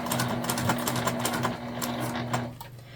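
A sewing machine stitches a pocket on a sling bag, its rapid, even mechanical chatter running loud and steady for a few seconds before easing off near the end.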